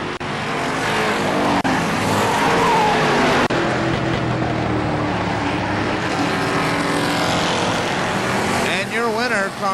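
Mini stock race cars roar around a speedway on the final lap at a Fourth of July race, engines loud and continuous under a PA announcer's voice.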